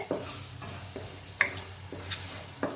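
Spices with dry red chili powder fry in a pan for a prawn dopiaza, a faint sizzle under repeated spoon scrapes and taps roughly every second.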